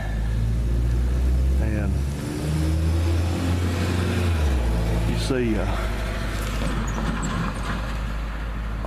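A truck revs and drives past outside, its engine rising and falling under steady background noise, while someone speaks briefly nearby.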